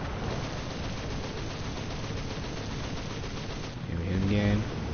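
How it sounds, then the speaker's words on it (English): A tank gun fires and strikes an enemy vehicle in War Thunder with Japanese tanks, a heavy boom near the end rising out of constant engine rumble and battle noise, with a voice talking. "Here we hit him again."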